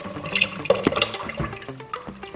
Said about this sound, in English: We have to add in the coconut milk.